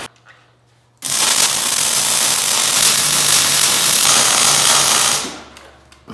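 Steel pressure vessel being welded while preheated, a loud continuous hissing, crackling burst lasting about four seconds after a quiet start, then cutting off.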